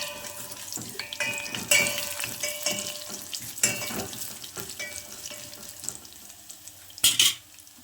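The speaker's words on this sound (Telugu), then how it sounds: "పోపు కూడా వేగిపోయింది." Tempering (popu) fries in a pan while making pesara pappu charu, a soft sizzle under scattered clinks and scrapes of a spoon stirring against metal, with a sharp clatter near the end.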